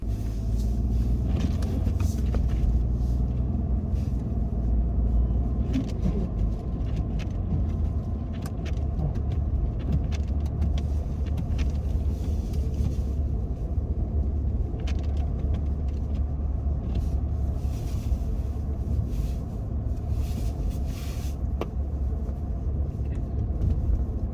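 A 2021 Ford F-150 PowerBoost hybrid pickup drives along with a steady low rumble of engine and road noise filling the cabin, fairly loud and constant throughout.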